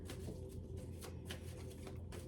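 Tarot cards being shuffled, a steady papery riffling and flicking that runs continuously at close range with no talk over it.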